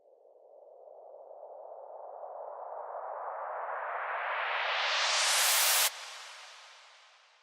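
A synth white-noise riser built in Logic Pro X sweeps steadily upward for about six seconds, swelling louder, then cuts off abruptly and leaves a long reverb tail of roughly four seconds fading out.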